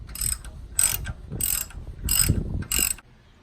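A ratchet wrench tightens the trailer hitch bolts under a third-generation Toyota 4Runner, giving five rapid bursts of clicking at a steady rhythm, each about a third of a second long, close and fairly loud, with no talking.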